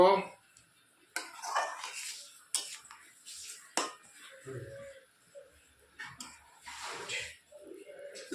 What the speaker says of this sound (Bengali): একটু নাড়িয়ে দেব